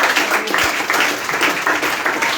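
A congregation at a prayer meeting bursts into brief, dense applause, a loud, continuous patter of many hands clapping together, lasting only a couple of seconds.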